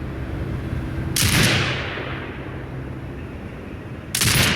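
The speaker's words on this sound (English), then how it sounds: "Exit binocular mode and command the turret to fire." Turret gunfire in the video game Sniper Ghost Warrior Contracts: two loud broadband blasts, the first trailing off into a long rumbling decay and the second arriving near the end, over a steady low game ambience.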